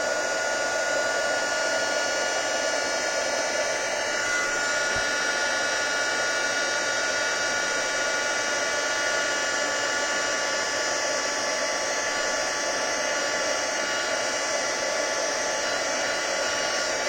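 A heat tool blows steadily while melting embossing powder, a loud constant whirring hiss of hot air that holds unbroken at close range for the whole stretch, with no talk.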